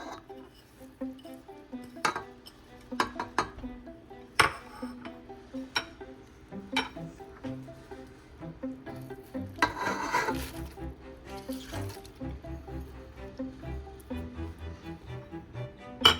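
Kimchi being mixed by hand with green onion and white radish in a bowl, a steady run of wet squishing and rubbing punctuated by sharp clinks and knocks against the container, close up and with no talking.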